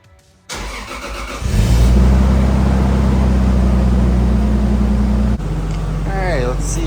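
A Mk4 Toyota Supra engine with an upgraded alternator cranks and catches, then settles into a loud, steady idle; the tone drops slightly near the end as a voice speaks over it.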